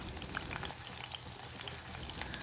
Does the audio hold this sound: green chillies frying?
yes